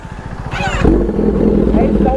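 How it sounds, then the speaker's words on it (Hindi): A Kawasaki ZX-10R with its dB killer removed rumbles through an open exhaust, a deep, loud throb nearby that thickens partway through. People talk over it. "अभी हम आपको ZX 10R की साउंड सुनाते हैं। DB किलर भी भाई ने निकाला हुआ है।"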